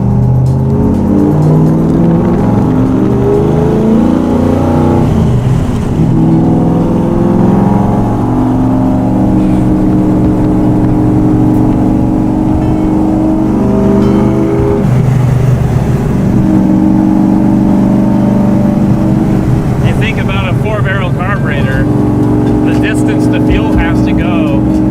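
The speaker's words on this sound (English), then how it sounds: "The throttle response, it revs quick, huh?" A 1967 Ford FIA Fastback Mustang with Weber carburetors revs hard and loud, its engine note rising and falling in quick sweeps with snappy throttle response, close up; voices speak over it.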